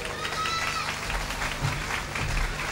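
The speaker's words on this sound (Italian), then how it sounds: "Un grosso applauso." An audience applauds at a variety show after a song is introduced, dense clapping throughout with some background voices mixed in.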